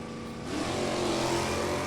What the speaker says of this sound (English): Good side-by-side run between the G car and the I car